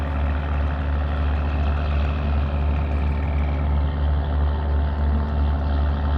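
A truck engine revs hard while spewing black smoke, a deep, steady mechanical rumble running loud and close throughout, easing slightly in the upper tones toward the end.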